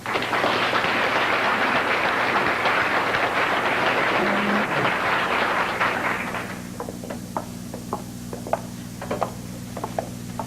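A round of applause at a 1988 high school basketball banquet, with a dense, steady crowd clapping that fades after about six seconds, leaving scattered individual claps over a low room hum.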